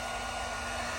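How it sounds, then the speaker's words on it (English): Heat gun blowing over freshly spray-painted parts of an Acura Integra GSR in cold weather, a close, constant breathy fan roar with no variation for its whole second. "Just gonna hit it with the heat gun a little bit."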